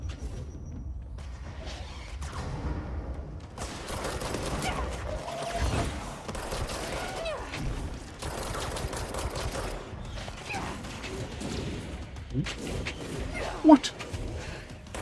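Gunfire from the action video game Control crackles in bursts over a busy game soundscape, mixed with crashes and mechanical noises, while a player talks intermittently throughout.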